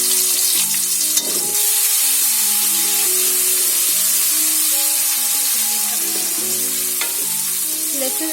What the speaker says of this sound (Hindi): लहसुन अदरक को हम थोड़ा सा फ्राई करेंगे